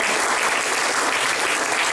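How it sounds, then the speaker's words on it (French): Dense, steady applause from the audience at a political gathering of French deputies, loud and continuous for the whole moment. "Je veux qu'on les applaudisse aussi."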